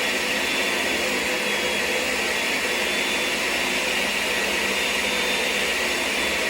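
A blender runs continuously, whirring loud and steady as it purees sofrito ingredients with added water, with no talk over the motor.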